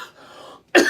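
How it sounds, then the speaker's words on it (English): A single sharp, loud cough bursts out near the end after a stretch of faint background noise. "Just getting started. I'm coughing already."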